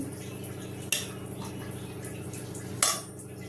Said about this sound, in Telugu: మిగిలిన అన్నం కూడా బాక్స్లో పెట్టేస్తాను